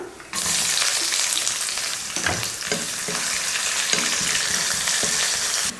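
Sliced large onion with bay leaves and whole spices dropped into hot oil, setting off a loud, steady sizzle that runs nearly six seconds, with a few stirring scrapes and clinks breaking through.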